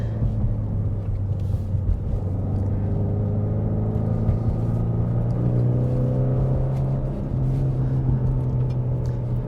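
2020 Ford Mustang EcoBoost Premium with a 2.3L engine accelerating on the road, a continuous close engine drone with rising harmonic tones under constant road rumble, no talk.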